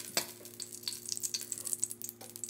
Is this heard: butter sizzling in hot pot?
yes